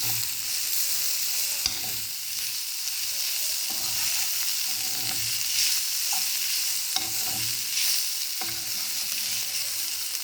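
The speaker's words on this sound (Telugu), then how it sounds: "దీన్ని మనం ఇప్పుడు ఒకసారి కలుపుకుందాం." Curry-leaf curry frying in a pan gives a loud, steady sizzle, broken by repeated scraping stirs at irregular intervals, with no talking.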